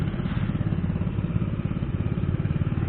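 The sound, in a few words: antique chainsaw engine running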